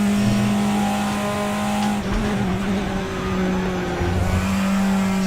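A race car engine in the RaceRoom racing game at Portimao, loud and steady as it drones through a lap, its pitch dipping and rising with shifts and cornering, with faint tire noise and no talking.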